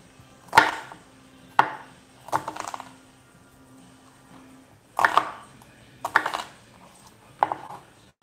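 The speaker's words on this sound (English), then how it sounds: "Once again, this is 1/4 of the shallot I'm cutting up." A knife finely chopping a quarter of a shallot on a cutting board, six sharp knocks with clusters of quick taps between pauses, close and clear with no talking.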